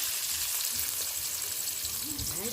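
Onions frying in a pan for a village country-chicken fry, a steady soft sizzle with faint stirring, and a brief voice-like sound near the end.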